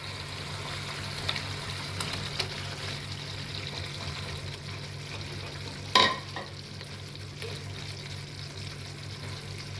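Fried paneer goes into a sizzling masala in a pan: a faint, steady sizzle over a low hum, broken by one sharp clatter as the pieces drop in.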